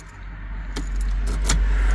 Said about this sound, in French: Quand j'enlève la clé,